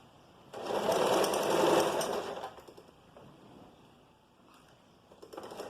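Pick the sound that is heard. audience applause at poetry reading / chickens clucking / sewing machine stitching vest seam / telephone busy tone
sewing machine stitching vest seam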